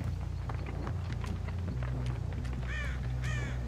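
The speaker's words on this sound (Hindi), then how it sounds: "ओ भाई यहाँ पर पीछे कौवा चिल्लाया," Two harsh crow caws ring out near the end over a steady low game-ambience hum and faint footstep-like thuds, from the horror video game Dead by Daylight Mobile.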